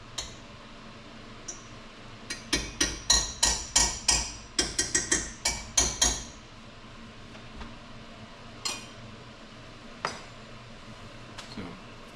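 A spoon scrapes and knocks rhythmically against a pot while stirring beef stew with mushrooms and tomato paste, a quick burst of about a dozen metallic clacks followed by a few scattered taps.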